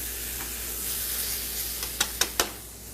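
Pork loin cutlets sizzling in a frying pan, a soft steady hiss and crackle with a few sharp pops and spatters near the end.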